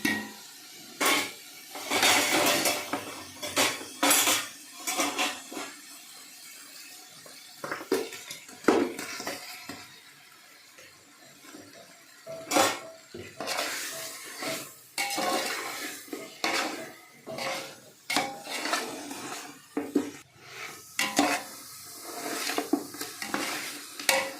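Mutton tipped into a pot of softened tomatoes for biryani and stirred, with repeated loud scraping and clanking of a spoon against the pot over a low sizzle, in uneven bursts close by.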